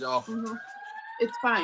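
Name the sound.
emergency vehicle siren in Los Angeles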